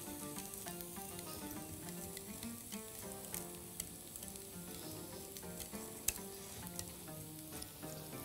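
Onions fry in a pan with a soft, even sizzle and crackle, steady and quiet throughout, with a few small clicks and ticks and no talking.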